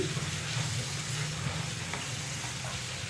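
Sliced potatoes fry on a stovetop pan over medium heat, giving a steady, close sizzle with a soft broadband hiss and occasional faint stirring scrapes, no talking.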